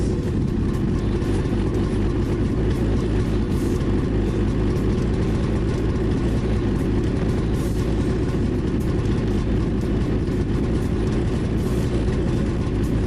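A 2017 Ski-Doo Skandic snowmobile with a worn drive belt runs steadily, giving a dense, low, rumbling engine drone with a faint irregular knocking through it. The sound is close, constant and unbroken, with no speech.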